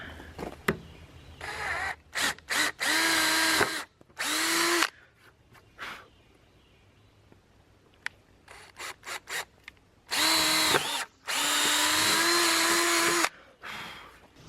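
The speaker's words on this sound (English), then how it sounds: "So now I'm just using a 1/4 inch bit on my drill." Several bursts of a power drill with a 1/4 inch bit whining on and off, short pulses followed by longer sustained runs, close and loud, with quiet gaps between.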